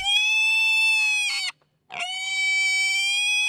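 Pigs restrained for veterinary treatment let out two loud, piercing, sustained screams, each over a second long, separated by a short silence.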